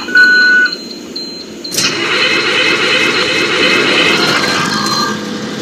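A 2002 IC CE 200 school bus engine in a video game, heard after a short electronic chime: it cranks and catches with a sudden burst, then settles into a steady, fairly loud idle.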